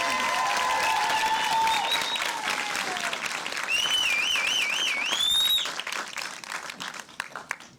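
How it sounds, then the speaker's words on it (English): Audience applause at a documentary screening panel in Austin, with whistles and cheers over steady clapping that tapers off near the end. "Can we just do another round of applause for Cherry?"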